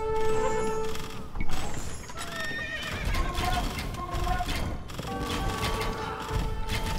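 Several whinnies from mounted horse archers in Age of Empires II ring out amid clattering hooves and busy battle effects, repeating across the stretch with a brief voice in the mix.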